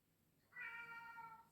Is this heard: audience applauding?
no